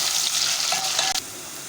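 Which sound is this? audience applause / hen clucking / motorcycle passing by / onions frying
onions frying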